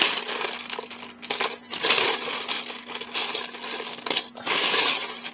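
Lego pieces from an airliner aerospace set rattle and clatter close by as hands rummage through them for a glass piece, in uneven bursts with brief lulls.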